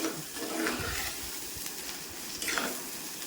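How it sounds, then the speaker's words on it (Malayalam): Steady, moderately quiet sizzling of curry leaves being stirred in a frying pan while cooking sardines, with a soft crackling hiss throughout and a few faint scrapes, and no talking. "കറിവേപ്പില ഇട്ട് കൊടുത്ത് ഒന്ന് കൂട്ടി യോജിപ്പിച്ച്"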